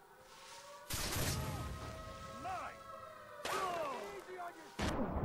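Enemy gunfire in Far Cry 3 during an outpost fight, several loud bursts of shots and impacts arriving in separate volleys, with someone talking in between and over them.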